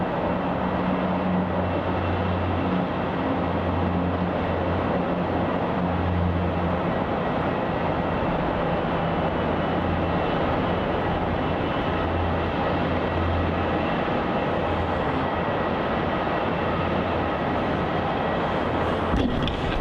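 A Boeing 747 cargo jet taking off from runway 34 at Melbourne Airport, a loud, continuous engine roar with a deep steady rumble that holds for about twenty seconds.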